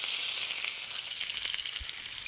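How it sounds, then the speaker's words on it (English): Black cod (sablefish) laid skin-side down in a smoking hot pan of oil, giving a loud, steady hiss of sizzling and crackling fat that continues throughout with no talking. "We're gonna go right into our smoking hot pan."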